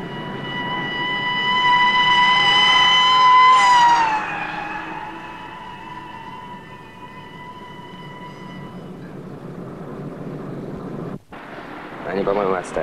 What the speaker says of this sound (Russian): За нами полицейская машина.